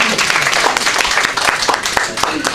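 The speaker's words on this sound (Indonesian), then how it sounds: "silakan tepuk tangan." An audience at a music press conference in Indonesia breaks into applause: dense clapping with sharp individual claps standing out, fairly loud and close, over a faint murmur.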